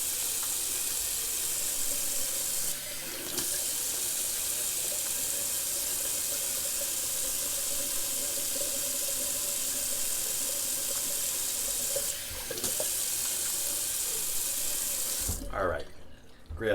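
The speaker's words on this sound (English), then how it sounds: "Do a little cold water rinse." Cold water runs steadily from a tap into a sink with a constant close hiss and splash, briefly interrupted a couple of times, then shut off near the end.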